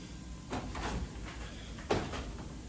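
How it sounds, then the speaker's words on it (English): A sliding door is opened inside the chamber of an Aeolian-Skinner pipe organ, giving soft rolling and scraping sounds followed by a single sharper knock near the end, heard close up with no talk. "From here, we can open another sliding door."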